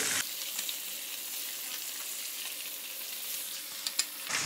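Fish, ribbon fish, sizzles steadily in a hot pan with crushed onions, giving a continuous bright frying hiss, close and moderately loud, with a few sharp pops near the end.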